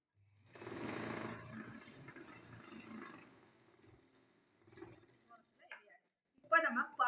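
Sewing machine stitching the silk lining of a skirt in a tailoring class, a steady whirring run near the start that fades, with brief handling noises and a short burst near the end, no speech.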